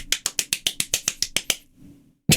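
Someone claps their hands about ten times in a quick, even rhythm, sharp and close, followed by a short pause and a loud sudden burst.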